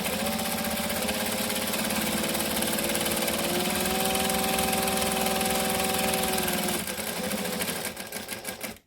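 A sewing machine stitches a vinyl bowler bag in a steady, continuous mechanical whir with a rhythmic needle clatter, close and loud, slowing and stopping near the end as the needle comes down for a pivot.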